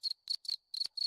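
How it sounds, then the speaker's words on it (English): A cricket chirp plays from a Discord soundboard: five quick, shrill trilling bursts in a steady rhythm, clear and close with nothing else around them. "There's a cricket."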